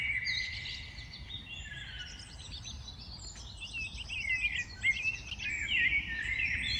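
Birds sing and chirp through a New Jersey park, several voices overlapping in bright, busy calls over a steady low rumble of background noise, growing a little livelier toward the end.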